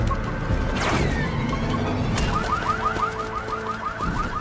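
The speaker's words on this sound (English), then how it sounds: "The car alarm, I forgot about that." A car alarm in the video game Satisfactory, loud and close, with a crash and whoosh at first and then a rapid repeating warbling chirp.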